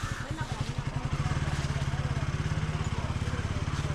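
Motorcycle riding through the streets of Dwarka in Gujarat, its engine putting out a steady close pulsing throb that grows slightly stronger partway through, with a voice talking over it.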